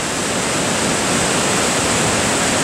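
A big waterfall pours down a rocky gorge near a Lake Louise hiking trail, a loud, unbroken rushing roar close by with no voices.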